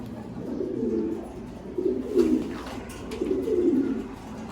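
Pigeons cooing in three soft, rolling bursts, low and throaty, with a pause between each call.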